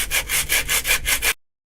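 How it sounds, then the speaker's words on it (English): A Scotch-Brite pad rubs a boat fitting smooth in about six quick back-and-forth strokes, a close, rhythmic scratchy scrubbing that stops abruptly. "I'm gonna touch it up with the Scotch-Brite, make it nice and smooth"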